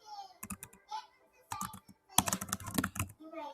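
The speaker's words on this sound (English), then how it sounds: "I am just typing on here just for an example." Quick bursts of typing on a computer keyboard, with clusters of light clicks separated by short pauses and a denser run of keystrokes near the end, close and fairly loud with no talking.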